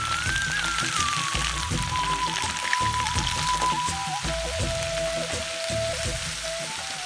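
Chopped vegetables for aviyal being mixed in a hot pan, a soft continuous sizzle with rhythmic low scraping strokes of a spoon repeating every second or so, and a faint steady tone above.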